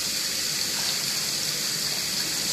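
About ten cups of liquid pour into a soup pot made from leftovers, producing a continuous, full gushing splash. It is close and steady and runs the whole time without a break and without any talking.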